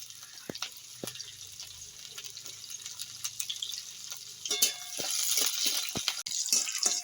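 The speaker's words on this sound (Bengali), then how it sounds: "এই তেলে দিয়ে দেবো আমি অর্ধেকটা রসুন কুচি, অর্ধেকটা আদা কুচি, আর অর্ধেকটা লঙ্কা কুচি।" Chopped garlic, ginger and green chilli frying in hot oil in a pan, a steady sizzle that grows louder and denser after a few seconds, with sharp clicks and stirring scrapes over it.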